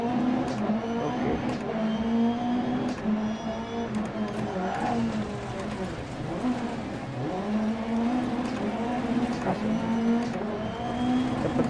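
Rallycross race car engine revving and accelerating in DiRT Rally 2.0, a loud droning motor that climbs and drops through gear changes with occasional tire noise, continuous throughout.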